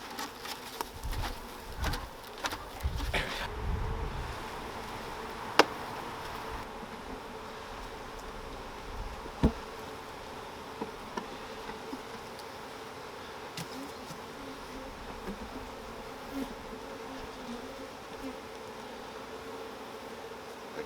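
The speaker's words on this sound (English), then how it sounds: "Go ahead and shake these bees out of here too." Honeybees buzz in a steady, close hum as they are shaken off a hive frame while a keeper performs fractional splits. A few sharp knocks and rustles stand out early on over the continuous drone.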